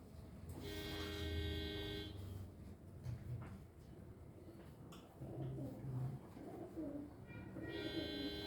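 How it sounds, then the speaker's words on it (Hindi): Low, soft cooing of a pigeon repeats amid a busy, noisy background, with occasional tonal toots and clatter around it. "कबूतर ही बोल रहा"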